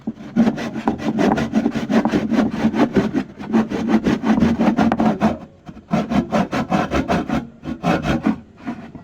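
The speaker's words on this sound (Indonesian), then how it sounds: "Gergaji ini." Hand saw cutting through wood, a steady series of rhythmic rasping back-and-forth strokes, close and loud, with a brief pause midway before the strokes resume.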